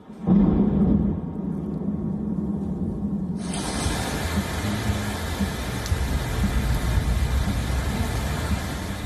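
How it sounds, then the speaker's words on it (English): A thunderstorm over Brisbane, Australia, rumbles with a loud, deep roll of thunder that fades into steady, heavy rain-like noise sustained throughout. "Brisbane residents also shared some videos of thunderstorms hitting the eastern Australian city"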